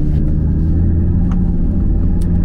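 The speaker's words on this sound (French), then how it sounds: "Ah, des petits retours à l'échappement." Audi TT RS running close and loud with a steady low engine rumble, a couple of faint brief crackles from the exhaust showing through.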